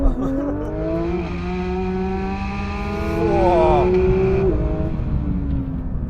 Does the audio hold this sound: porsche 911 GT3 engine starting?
yes